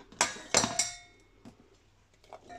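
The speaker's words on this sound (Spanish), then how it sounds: "Vamos a comenzar ya a poner las verduritas en la cubeta" Pieces of pepper, potato, onion and garlic dropped into an air fryer basket for pork tenderloin, a few sharp clattering knocks close up, the loudest three in a quick cluster, then softer scattered taps.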